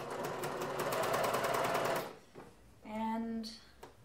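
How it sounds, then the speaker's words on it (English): A sewing machine top-stitches seams on a sweatshirt, running in a rapid close rhythmic clatter for about two seconds before stopping, followed by a voice speaking. "Over to my sewing machine here, and I'm just going to top stitch the seams towards the front."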